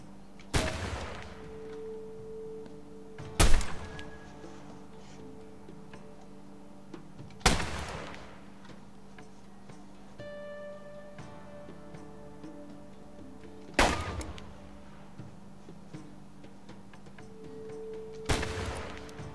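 Sharp in-game gunshots from Assassin's Creed Chronicles India ring out one at a time, five loud cracks spaced several seconds apart over a quiet ambient game backdrop.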